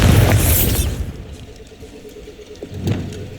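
Hogwarts Legacy's Bombarda blasting spell goes off as a loud, close explosion, a heavy boom and crackling burst that fades over about a second, followed by a quieter rumble and a smaller thud near the end.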